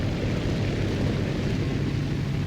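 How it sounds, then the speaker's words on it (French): A loud, dense roar of a propeller-driven aircraft engine in a video game, steady and unbroken throughout. "ça, c'est un bruit d'avion"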